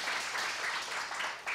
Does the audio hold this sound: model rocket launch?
no